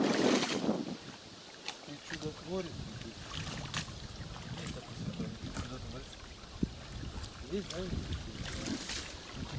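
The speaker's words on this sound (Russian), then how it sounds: "О, поток воды." Water streaming out of a pond being readied for bulldozer work at Poteryaevka, a continuous rushing flow outdoors in wind, with people talking over it.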